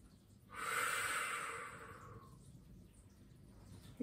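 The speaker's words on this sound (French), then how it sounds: "J'inspire et j'expire." A single long, slow exhale during a relaxation exercise, a close breathy rush of air that fades out over about two seconds, followed by quiet room tone.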